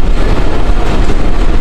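A passenger train on the Mongla to Benapole line in Bangladesh rumbles steadily as it eases toward a station, a close, continuous low clatter and drone with no talking.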